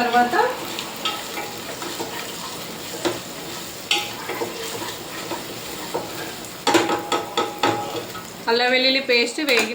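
Ginger garlic paste frying in oil for a sweet corn biryani, a steady close sizzle with stirring scrapes and clinks of a spoon against the pot, ending in a louder burst of spattering.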